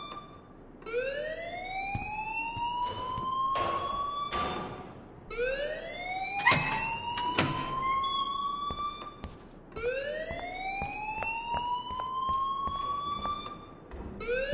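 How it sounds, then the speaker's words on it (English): An alarm rings inside the video game Life is Strange, a siren-like wail that rises and repeats in three long cycles. It is steady and moderately loud, with occasional sharp clicks over it. "please turn off that alarm since that's your job"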